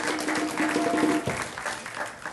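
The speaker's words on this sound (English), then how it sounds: "Let's give all of them a round of applause." A crowd at a Juneteenth ceremony in Oak Park applauds in a steady, full clapping wash, with a few voices and cheers mixed in underneath.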